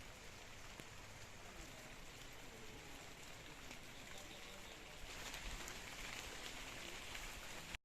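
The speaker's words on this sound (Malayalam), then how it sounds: "മഴ" Steady rain falls at a nature park and wildlife conservation centre, a faint, even patter that continues unbroken and rises slightly toward the end, with no voices.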